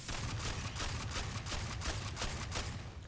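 Rapid, repeated pump shotgun blasts in Aliens: Fireteam Elite, a steady, loud barrage of closely spaced booming shots with a regular rhythm over heavy low rumble.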